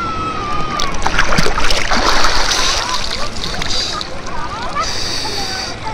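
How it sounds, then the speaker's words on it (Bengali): Water splashing and sloshing as people take a dip in the Ganges at Gangasagar during the Gangasagar Mela, loud and close, with voices talking and calling over the splashes. "একটা ডুব দিয়ে আসি।"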